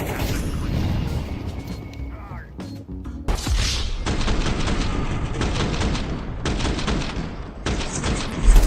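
Gunfire in a first-person shooter game, dense bursts of shots and crashing impacts filling most of the stretch, with a short lull before it, loud and continuous against mixed game noise.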